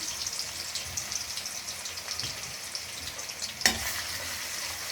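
Masoor lentil paste fries in a pan for a bottle gourd curry, giving a steady close sizzle with soft crackle and one sharp clink near the end, no voices.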